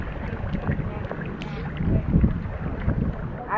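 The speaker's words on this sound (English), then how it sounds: "Now we're gonna go just paddle around and see if we don't run into something." An inflatable kayak is paddled on open water, with soft splashing paddle strokes and some wind rumble on the microphone, close and moderately loud.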